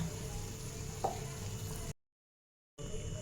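Carrot halwa cooked with milk is stirred in a pan, giving a soft, steady bubbling sizzle with a faint scrape partway through, then a short gap of total silence before the quiet simmering resumes.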